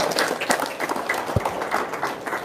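Seated audience members at a seminar give a round of applause, many hands clapping in a brisk, fairly close continuous burst with a single low thud partway through.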